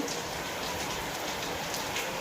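Steady rain falls, a continuous soft hiss of drops on surfaces with no other sounds.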